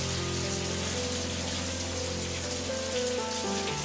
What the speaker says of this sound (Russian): Не мыться часами в душе.